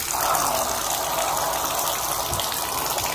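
Water gushes from a bathtub faucet in a home with a tub leaking into the basement, a steady loud rush that holds constant throughout.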